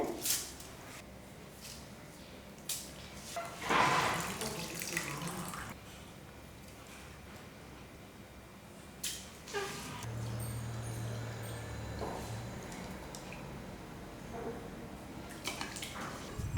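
Washed millet draining in a strainer: faint splashes and trickling water come in a few short bursts, separated by quiet stretches in a calm kitchen.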